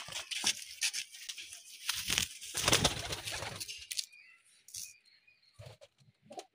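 Racing pigeons released at a tournament loft in Bauria, Kolkata, with a burst of wing flapping and scuffling that peaks mid-clip, then fades to sparse faint flutters and background bird sounds.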